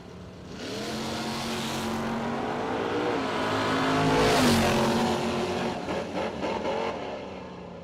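A Camaro drag race car at the Spring Stampede drag racing event rumbles loudly, then swells into a roaring launch and fades as it pulls away, heard from a distance with no talk.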